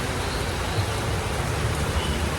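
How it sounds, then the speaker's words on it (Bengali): Heavy rain falling in a dense, even hiss that holds steady at moderate loudness throughout, with no clear individual drops standing out. "কি বৃষ্টি"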